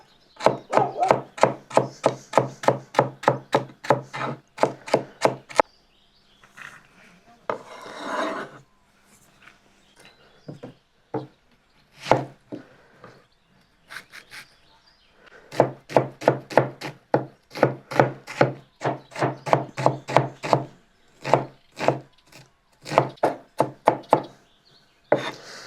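Knife chopping carrot and onion on a cutting board for a quick chicken noodle soup, with long fast runs of sharp, evenly spaced cuts broken by a quieter pause in the middle, close and loud with no talking.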